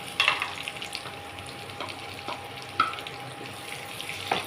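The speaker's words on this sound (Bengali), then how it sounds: "প্রথমেই আমি পেঁয়াজ বেরেস্তাটা করে নিচ্ছি" Sliced onions deep-frying in hot oil for crispy beresta, a soft continuous sizzle and bubbling hiss at moderate distance, with a few brief clinks and stirring noises over it.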